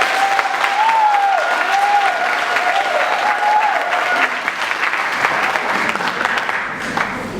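A church congregation at a Sunday service claps together in sustained, dense applause that fills the room, loud and steady before thinning slightly toward the end, with a few voices and cheers rising within it.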